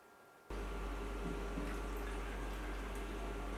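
Homemade herbal water extract for hair dye being poured through a strainer, a steady continuous trickle of liquid starting abruptly and running close and fairly loud throughout.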